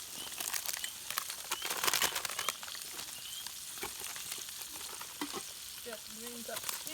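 Food sizzling and frying in a pan set over a campfire in the wilderness, a steady crackling hiss with occasional stirring scrapes and faint bird calls around.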